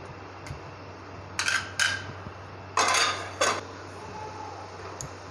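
Zucchini curry with cream is stirred in a cooking pot, giving a few brief metallic clinks and scrapes of a spoon against the pot over a faint steady hum, and no talk.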